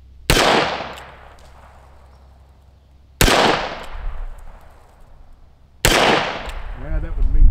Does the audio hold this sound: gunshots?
yes